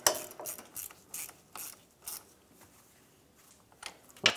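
Torque wrench ratcheting as it tightens steering rack mounting bolts on a 1996-2002 Toyota 4Runner, several short bursts of close, crisp clicking separated by brief pauses.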